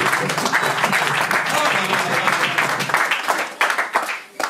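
A church congregation applauds in praise, a dense, steady wash of clapping filling the room, with voices mixed in and the clapping thinning toward the end.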